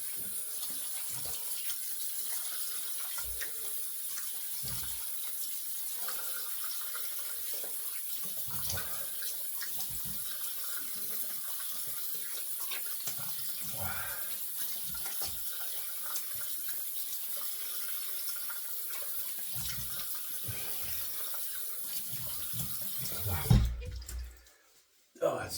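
Running tap water pours steadily into a sink as a razor is rinsed during a wet shave, a continuous close splashing hiss lasting many seconds before cutting off abruptly near the end.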